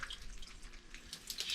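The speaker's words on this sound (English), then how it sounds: "You got that water leaking out." Water leaking and trickling from a well filter housing during a filter service, a soft steady running-water wash with faint splashes, close by and quiet throughout.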